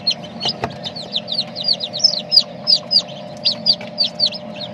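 Tiny chicks fresh from a homemade egg incubator, kept with new Muscovy ducklings, give a fast string of shrill peeps, near and clear above a constant low machine hum, with one soft knock early on.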